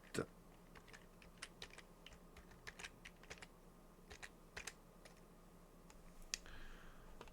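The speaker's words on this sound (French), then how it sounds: "je renseigne un mot de passe pour le compte route" A password is typed on a computer keyboard during a Manjaro Linux install with KDE Plasma, a quiet run of close, irregular clicking keystrokes with short pauses between bursts.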